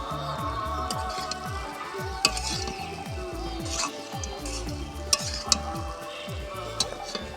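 Poha being stirred in a pan with fried peanuts and curry leaves, a steady scraping and stirring with a soft sizzle underneath and a few sharper clinks of the utensil against the pan.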